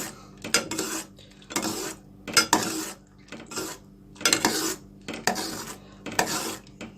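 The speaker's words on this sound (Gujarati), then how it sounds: "આપણે આને કન્ટિન્યુ સ્ટર કરતા રહેવાનું છે." A spoon scraping around a pot of thickening milk for guava ice cream, stirred in repeated bursts with clear metallic scrapes at a steady rhythm, close and alone.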